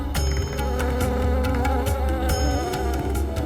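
Bees buzzing around a hive, a steady droning hum with a few sharp percussive accents over it, fairly loud and continuous.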